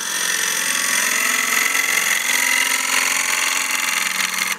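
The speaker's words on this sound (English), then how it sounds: "you can switch to a heavy scraper like this" A heavy scraper cuts wood on a lathe while turning a succulent planter, producing a loud, continuous rough scraping rasp with steady machine drone, close up and without talk.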